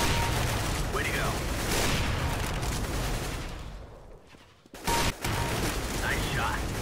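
Gunfire rattles in the shooter game CS:GO. Rapid bursts of shots crack loudly over a dense in-game background, with a brief lull before another close burst.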